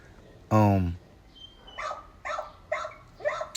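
Dogs bark in the background: one loud, close bark opens, followed by a run of four quicker, fainter yips and barks at a steady pace.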